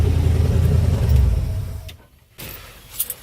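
An old car's engine idles with a loud low rumble that carries for about two seconds, then cuts off abruptly into near silence before faint clunks and handling noises follow.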